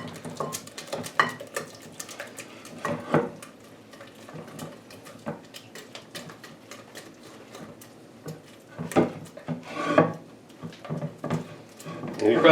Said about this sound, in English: Whisk this all up until all the lumps are out of it.